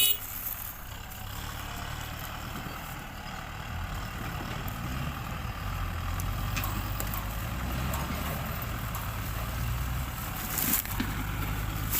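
A two-trailer truck hauling sugarcane rumbles along with a steady low engine drone and road noise, an occasional brake hiss near the end.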